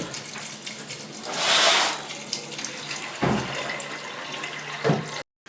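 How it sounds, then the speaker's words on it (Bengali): Water pours into a cooking pot in the kitchen, a continuous splashing stream that swells to a louder gush midway, followed by a few short pours before it stops. "আমি দিয়ে দিচ্ছি পরিমাণ মতো জল"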